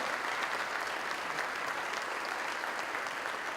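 A crowd applauds the speakers at a 2017 political and economic perspectives conference in Gualeguaychú, an even, unbroken wash of many hands clapping at a steady level for the whole stretch.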